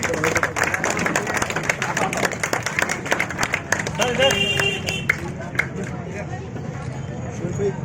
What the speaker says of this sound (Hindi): जोरदार तालियों से उनका इस्तेकबाल कीजिए।